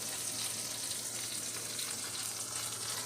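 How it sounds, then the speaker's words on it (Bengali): Brinjal slices fry in a pan with a continuous, even sizzle and crackle at moderate level, close by and uninterrupted, with no speech. "এখন বেগুন ভাজছি"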